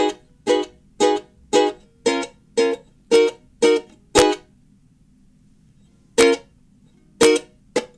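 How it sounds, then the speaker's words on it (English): Rhythmic ukulele strums of the strumming pattern for a song, bright chords in a steady pattern of down-up strokes, pausing briefly before a few final strums; no melody on top. "the whole strumming pattern should sound like this without any melody"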